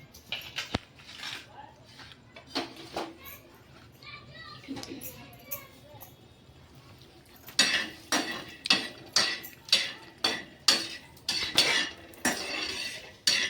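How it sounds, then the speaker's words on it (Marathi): Peanuts and coconut are dry-roasted in a pan, with a regular series of loud scraping strokes from a spatula, the rhythm steadying in the second half; someone talks over the early part. "शेंगदाणे आणि खोबरं मी घेणार आहे भाजून"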